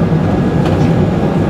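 Chicago CTA 5000-series Green Line elevated train riding, heard from inside the car as a steady, loud rumble of wheels and motors with no pauses.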